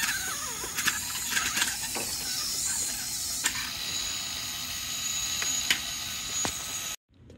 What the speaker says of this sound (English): Another attempt with the belt pusher.